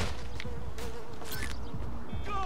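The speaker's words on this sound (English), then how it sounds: "like a fly or something." An insect buzzes close by, a thin droning hum that wavers over a few seconds amid faint background noise.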